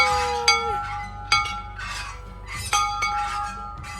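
Dinner bell at a 110-year-old Craftsman bungalow homestead struck several times, bright metallic clangs with ringing decay, close and loud, with faint background voices.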